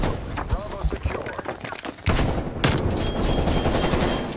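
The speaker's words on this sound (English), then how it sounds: "I shot him through the smoke" Rapid automatic gunfire and sharp shots crackle in a Call of Duty: Black Ops Cold War match, loud bursts especially in the second half, with a player's voice speaking in between.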